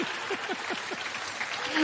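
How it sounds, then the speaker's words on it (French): Audience applause for participants just woken from a stage hypnosis show, a steady dense patter of clapping from a crowd heard alone throughout. "On les applaudit encore une fois"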